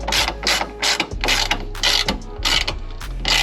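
A ratchet tightens M6 bolts with close, repeated bursts of rapid clicking, delivered in a quick irregular rhythm of short strokes with no talking over it.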